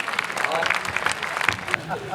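Crowd claps at a kavi sammelan poetry gathering at Lok Kala Mandal in Udaipur, a busy patter of many hands mixed with scattered voices and cheers from the audience.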